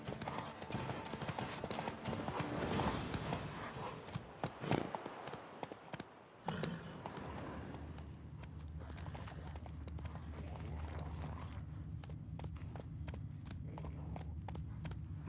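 Roach, Geralt's horse in The Witcher 3 game, clip-clops at a steady rhythmic pace, hooves close and clear, first over a busy rushing backdrop that drops away to a quieter low hum.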